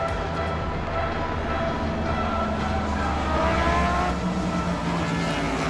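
Superbikes run a warm-up lap at the Brands Hatch circuit, their engines a dense, continuous roar heard from trackside with overlapping whines rising and falling as the field passes.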